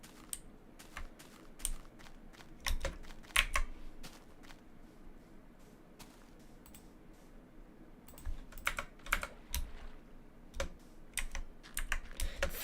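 Keys on a loud computer keyboard are struck in uneven bursts of close, crisp clicks, busy at the start and end with a quieter lull in the middle, and no voice over them.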